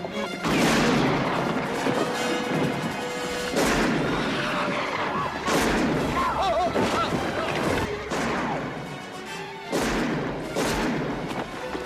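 Gunfire in a Western gunfight from the Clint Eastwood film The Outlaw Josey Wales: loud, repeated booming shots and crashes in quick, irregular succession over a dense, continuous soundtrack.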